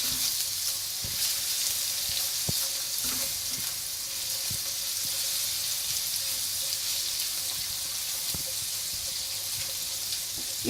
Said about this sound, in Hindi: और इसको 1 मिनट के लिए हल्का सा फ्राई करेंगे।